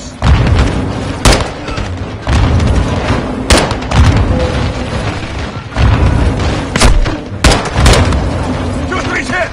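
Grenades launched and exploding amid heavy gunfire in a combat firefight, with repeated loud booms and bursts of shots over a dense, continuous roar and shouting voices.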